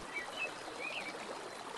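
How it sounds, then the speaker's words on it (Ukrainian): Gentle brook in the Carpathian forest, water trickling and gurgling over stones, a soft continuous burble close by with faint bird chirps above it, no voices. "Заплющ очі, прислухайся та почуй лагідне дзюрчання струмка."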